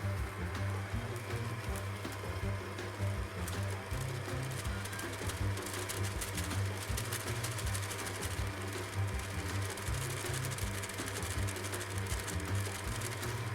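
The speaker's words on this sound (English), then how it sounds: "restart the mixer" Stand mixer running at a steady speed while mixing flour into dough, a continuous close mechanical whir with a regular rhythmic chatter throughout.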